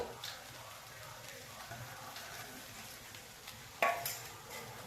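Poha (flattened rice) is stirred in a pan, a faint, low hiss with soft scraping and one brief sharp clink of a utensil against the pan, with no talk.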